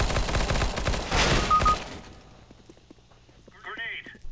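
Rapid bursts of gunfire in Counter-Strike (CS:GO), several shots in quick succession over the first two seconds, then quieter game ambience and a brief electronic sound near the end.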